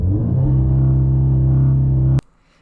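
An Audi S3 quattro engine in heavy rain is held at a steady, loud high-rev drone during launch control, a sustained rumbling buzz that cuts off abruptly near the end, leaving only faint background noise.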